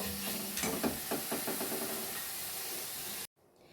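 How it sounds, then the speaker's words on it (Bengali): Water hits hot spice paste fried in oil, bursting into a loud, broad sizzling hiss with bubbling crackles that holds steadily for about three seconds before cutting off abruptly. "আমি এবারে জল দিয়ে দেব"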